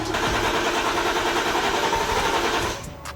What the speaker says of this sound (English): To prime the engine, turn the car over. It will try to start 3 times.